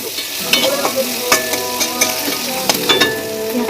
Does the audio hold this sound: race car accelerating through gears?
no